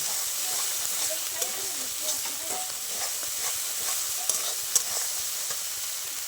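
Masala spice paste frying and stirred in a pan with oil, a steady sizzling hiss broken by scattered scraping taps of the spoon, close and even throughout.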